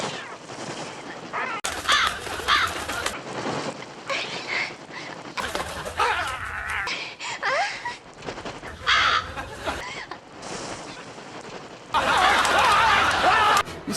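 Crows caw repeatedly in a horror film scene, with harsh, loud calls scattered across choppy, shifting shots and bursts of dense flapping and rustling noise. A voice is faintly present at times.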